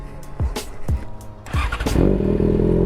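A Yamaha XJ6F motorcycle engine revs close to the microphone, with several quick sharp blips of the throttle before building into a louder, sustained roar at the end.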